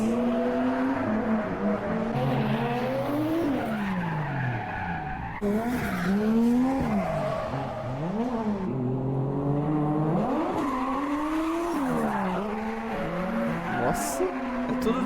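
Car engines roaring at a drift event in Japan, revving up and down repeatedly with long tire squeals and skids, loud and continuous, with voices faintly underneath.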